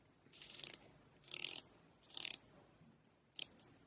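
Ratcheting bezel on a 1985 William L vintage automatic diving watch turned in four separate bursts of crisp, rapid clicks, close and fairly loud, with short quiet gaps between turns.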